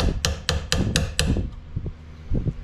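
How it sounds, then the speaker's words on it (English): A hammer strikes a punch to drive the shell stop pin of a Benelli M4 shotgun, five evenly spaced sharp metallic taps followed by a few softer knocks, close up. "take my hammer and a punch"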